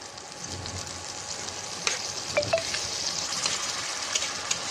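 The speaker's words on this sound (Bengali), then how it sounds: "মশলাটা ততক্ষণ একটু ভাজা ভাজা হোক" Turmeric and chili powder frying with fish in a pan give a steady close sizzle, with a few sharp clicks and scrapes as the mixture is stirred and no talk.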